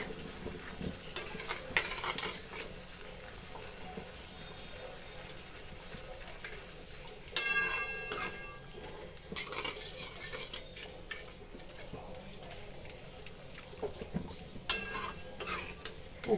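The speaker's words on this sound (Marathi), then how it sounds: "उकळेपर्यंत हलवत राहायचं म्हणजे फाटेत नाही दही" A spoon stirring curd into a fresh turmeric gravy in a pan, with soft scraping, clinks against the metal and a low simmering sizzle in steady bursts.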